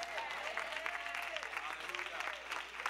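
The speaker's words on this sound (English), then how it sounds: "let's applaud God" Steady applause from a church congregation fills the room throughout, dense and sustained, with a few voices and calls mixed in.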